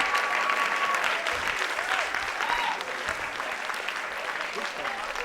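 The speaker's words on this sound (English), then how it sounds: "guys, give them a round of applause" An improv comedy audience breaks into a steady, full round of clapping after a scene ends, dense and continuous throughout, with faint cheers and a whistle-like tone briefly mixed in.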